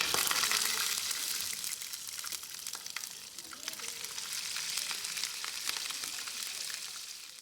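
Seasoned food fries in hot oil, a dense continuous crackling sizzle with sharp spitting pops, close and fairly loud throughout.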